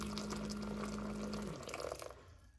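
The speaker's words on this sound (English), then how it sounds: "I like to use the hot water from my tea kettle to make sure that the sugar dissolves thoroughly." Hot water pours from a tea kettle in a continuous close splashing stream that tapers off after about two seconds and ends in quiet.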